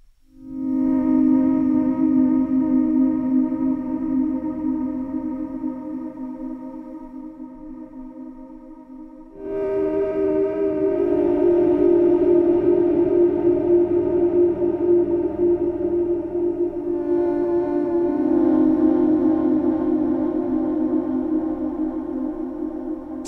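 Arturia MicroFreak synthesizer playing a sustained ambient pad through heavy reverb, with long held chords that shift at roughly 9 and 17 seconds, loud and steady throughout with no voices.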